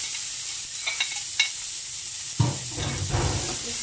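Onions hit hot oil in a pan for beef mechado: a few faint clinks and stirring sounds come first, then a sudden close sizzle starts midway and keeps crackling steadily to the end.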